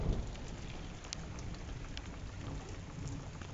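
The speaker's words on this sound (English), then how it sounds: "The sky's all crazy and raining." Heavy summer monsoon rain pours steadily onto a house, a dense, constant hiss of drops hitting surfaces close by, with no voices.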